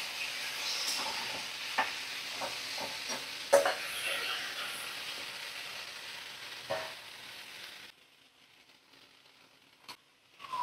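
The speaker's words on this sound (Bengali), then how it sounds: "এবার লাউ দিয়ে দেব, সরু করে কেটে রাখা লাউ দিয়ে দিলাম।" Thin-cut bottle gourd goes into hot oil with cumin and green chilli, frying with a steady sizzle and several stirring knocks, close by. The pan sound drops away near the end, leaving a couple of faint clatters.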